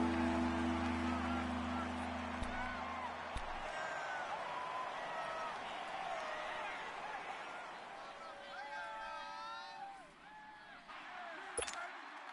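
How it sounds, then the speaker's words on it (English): Steady crowd roar and cheering fills a football video game stadium ahead of a big third down, a broad continuous wash of noise under a commentator's voice throughout. "The crowd getting into it as we come up on a big 3rd down."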